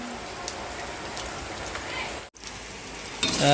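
Ginger garlic paste sizzles steadily in a hot pan, a close, even crackle like light rain that holds for a few seconds, dips briefly to near silence, then resumes with a brighter burst of frying at the end.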